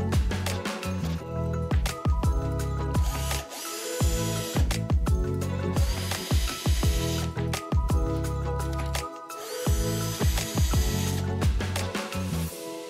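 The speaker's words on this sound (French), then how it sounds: "Insérez les vis dans les trous et serrez-les." Screws are driven into wooden boards with a power driver, several bursts of whirring alternating with short pauses, loud and close, with no talk.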